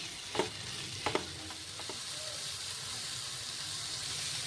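A spoon stirs Kashmiri chili powder, garam masala and salt in a pan for egg tawa masala, with a few light scrapes early on over a quiet, steady sizzle.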